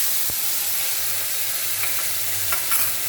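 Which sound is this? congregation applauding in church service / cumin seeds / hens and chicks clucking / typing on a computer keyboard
cumin seeds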